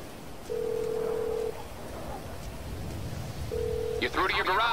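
In a PS4 driving game, a phone call to the mechanic plays as two flat telephone ring tones with a gap between them, followed by a quick burst of keypad-like tones, all under an ongoing game soundscape.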